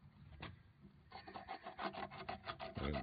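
A small file rasps along a yellow birch root cane handle in close, uneven scraping strokes that quicken and grow denser toward the end, with no talk over them.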